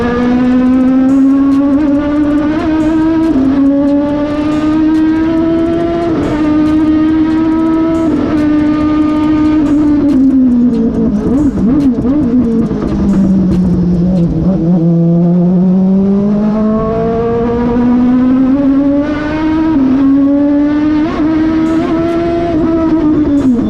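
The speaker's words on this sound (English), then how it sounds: "The tires are sticking, there's traction now on the track, so the car's performing very well." A race car lapping a track in preparation for a Formula Woman competition, its engine droning loud and close throughout, rising and falling in pitch as it shifts, brakes through corners and accelerates again.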